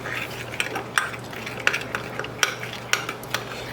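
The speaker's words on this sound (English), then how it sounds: "Give it a good stir in there." A spoon stirs sugar into a cold summer dish, making a series of close, crisp scraping clicks against the bowl at an uneven rhythm over a low background hum, with no voices.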